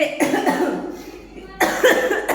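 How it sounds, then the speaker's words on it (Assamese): A person coughs in two loud, harsh bursts, with a short pause between them, close up and alone. "এয়া দেখিছেই নহয় কাহি কেনেকৈ আছোঁ মই"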